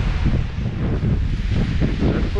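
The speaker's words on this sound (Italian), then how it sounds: "che vento pazzesco che c'è." Strong storm wind buffets the microphone beside a camper, a loud, close, continuous rumbling gust with fluttering bursts and no pause.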